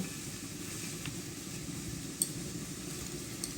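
Colocasia, brinjal and potato frying in a pan give a steady, even sizzle that runs without a break, with a couple of faint clicks and no voices.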